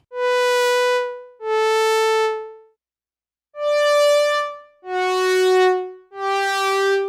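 Five sustained synthesizer notes with a rich, buzzy, wide tone play one after another, with a short gap after the second.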